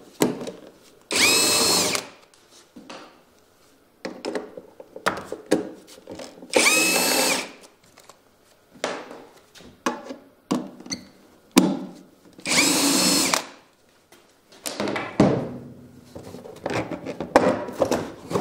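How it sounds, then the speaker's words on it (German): Engine cover nuts are backed off with a 10 mm socket on a VW-group 1.9 TDI engine: several bursts of fast ratcheting clicks, each a second or so long, between scattered clanks, taps and handling noises, close and fairly loud. "Dann die 3 Muttern mit einer 10er Nuss abschrauben und die Motorabdeckung abnehmen."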